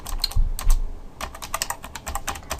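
Quick keystrokes clatter on a computer keyboard in irregular bursts, crisp close taps with a couple of heavier key presses, no voices.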